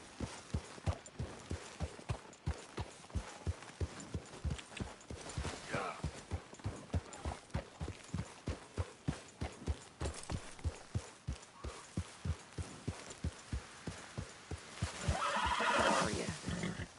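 Horse hooves clip-clop in a steady, rapid rhythm throughout a video game scene, with a whinny rising near the end; someone talks over the hoofbeats.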